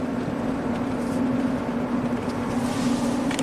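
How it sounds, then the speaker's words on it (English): Ford Escape V6 engine misfiring on an uphill grade, heard as a steady close droning hum that runs unbroken for a few seconds, with no talk over it. "I had that momentary half-second like complete ignition cutout during the misfire event"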